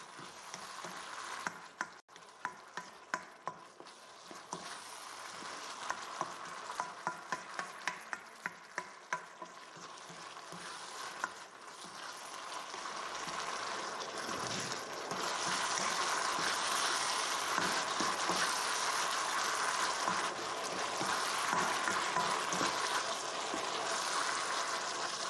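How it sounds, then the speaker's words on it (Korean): Meat sauce for rice balls simmers and stir-fries in a pan, giving a steady hiss and patter that grows fuller and louder partway through, with scattered clicks of stirring early on. "졸인다는 느낌으로 볶아주세요."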